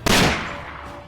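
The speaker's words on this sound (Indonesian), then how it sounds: "tembakan bantuan ditembakkan oleh rekannya ke arah musuh" A single sharp gunshot cracks loudly in a forest battle, followed by a decaying echo that fades over about a second.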